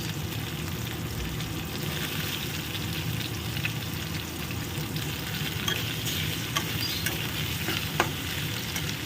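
Shrimp sizzles steadily in a hot pan with chopped green chillies, a spatula stirring and scraping through it with small clicks and taps over a constant close frying hiss.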